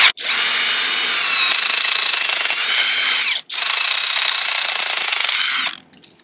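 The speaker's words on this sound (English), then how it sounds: "Just going to drill a slight upward angle" A loud power drill whines steadily while boring at a slight upward angle into a maple tree for tapping, pausing briefly midway, then resuming before winding down at the end.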